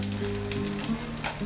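Lemongrass frying in a pan, a steady close sizzle and crackle with no voices, for pork ribs fried with lemongrass and chili.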